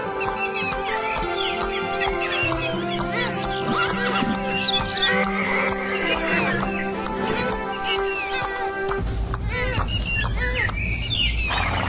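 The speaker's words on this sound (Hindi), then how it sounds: "राजा महल से घोड़े पर सवार होकर अकेले ही निकलता है" A horse whinnies and neighs as a king rides out alone from the palace, blended with bird squawks and layered background music, with clip-clop sounds toward the end.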